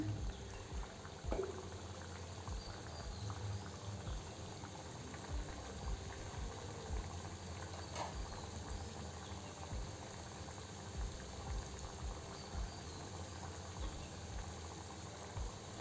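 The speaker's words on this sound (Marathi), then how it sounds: "आता बिस्किट तळून घेऊ कमी गॅसवर" Homemade biscuits frying in oil over low heat, a soft, continuous bubbling with a faint steady hiss and occasional small pops, no talk.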